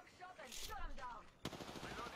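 AS-44 gunfire in a ranked multiplayer video game: a sharp, punchy shot ring out amid game noise, with players' voices talking over it.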